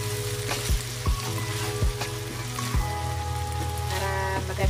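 Ground beef sautéed in a pan gives a steady loud sizzle, broken by repeated scraping thumps of a spoon stirring the meat every second or so.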